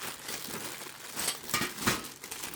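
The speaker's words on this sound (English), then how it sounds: "Let's go ahead and just cut this open" A cardboard package with metal hardware is cut open, heard as quiet crinkling and a few sharper scraping slices close up, with no talking.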